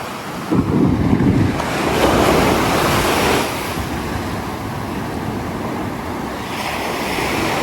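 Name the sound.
sea waves crashing on the shore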